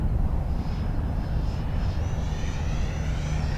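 An E-flite Viper 90mm electric ducted-fan RC jet makes a half-throttle pass at a flying field, its steady loud whooshing whine running throughout with a faint shifting pitch as it goes by.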